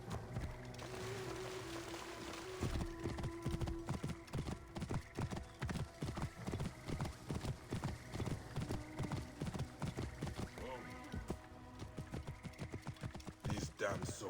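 Horse hooves clip-clop steadily in a video game set in Egyptian tomb ruins, the rhythmic thuds close and continuous for most of the stretch, with a brief whinny mixed in over a layered game soundtrack.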